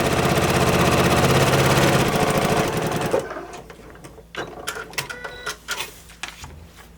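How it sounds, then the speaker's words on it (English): A sewing machine stitches a quilt seam with a fast, steady mechanical rattle for about three seconds, then stops, leaving softer handling clicks and rustles. "I'm gonna sew from the seam allowance to the seam allowance along that line."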